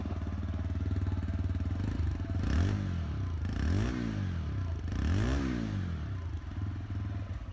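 A 2025 TVS Raider 125 motorcycle engine idles steadily nearby, with a low rhythmic thrum and a few brief rises in revs.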